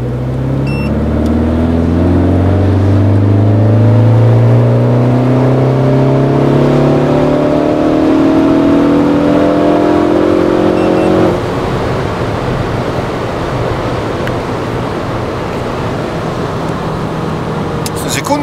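A Ford Focus ST fitted with a new exhaust system and software tune revs and accelerates on a test run, its engine note rising steadily through the gears, loud and close, before settling into a rougher drone.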